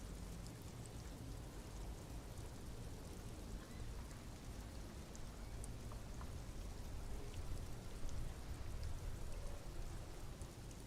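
Steady rain falls in the video game Disco Elysium, a dense even hiss of drops with soft low rumble, holding at a constant moderate level throughout with no voices.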